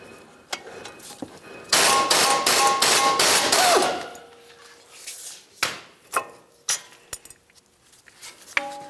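Ratchet wrench with a 17mm socket loosening the front caliper bracket bolts on a 2010-2013 Nissan Versa during a brake job: a dense burst of rapid clicking and scraping, then scattered separate metallic clicks and clunks, close and fairly loud.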